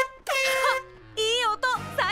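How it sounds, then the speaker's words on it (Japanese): A newly fitted horn on a cartoon car from PJ Masks sounds off in three loud, musical honks with sliding pitches, the blasts separated by short gaps and heard clearly on their own. "クラクションどうしたの？"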